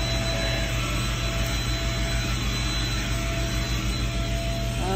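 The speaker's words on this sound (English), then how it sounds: "He's vacuuming over on Nana's side of the bed now." A vacuum cleaner runs continuously inside a bus beside a bed, a loud, steady motor drone with a high whine and no breaks.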